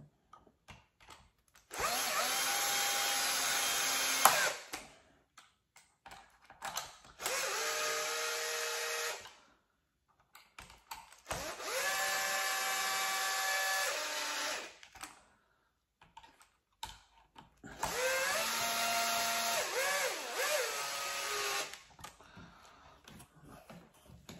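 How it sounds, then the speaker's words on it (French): Cordless power screwdriver driving screws into a Traxxas E-Revo 1/10 RC car, four loud whirring bursts of a few seconds each with short pauses between them, close up and without talk. "je vais peut-être finir de les visser"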